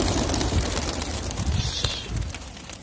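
A flock of racing pigeons released outdoors for a 35 km race, with soft cooing and a rush of wing flaps over steady wind-like noise, no voices.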